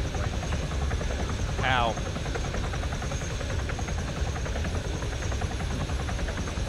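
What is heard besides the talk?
Huron transport helicopter in a video game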